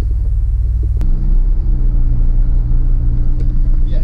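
A DeLorean with a manual transmission rumbles loudly while driving, a deep, steady engine drone from inside the cabin. There is a click and then a slight shift in engine tone about a second in.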